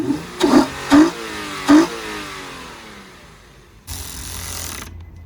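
A Nissan Skyline G37 engine with a newly installed cold air intake revs sharply three times in quick bursts, each rise and fall clearly audible, then settles into a steady, rumbling idle.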